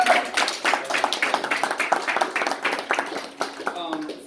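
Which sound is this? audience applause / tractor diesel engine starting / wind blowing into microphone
audience applause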